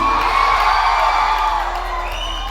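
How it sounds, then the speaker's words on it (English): Students cheering and whooping at a college freshers day event, a loud crowd roar lasting a couple of seconds and tapering slightly toward the end. "Can I hear a loud cheer, everybody?"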